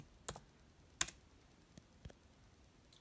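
Sparse keystrokes on a computer keyboard of a Mac, a few separate clicks spaced about a second apart, quiet and close in an otherwise still room.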